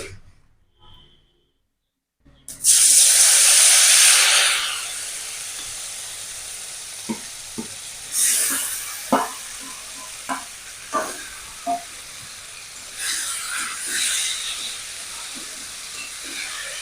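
Spiced taro stolons dropped into hot mustard oil with black cumin burst into a loud, sudden sizzle after a brief silence, then settle into a steady hiss with scattered spoon clicks and scrapes as they are tossed in the kadai.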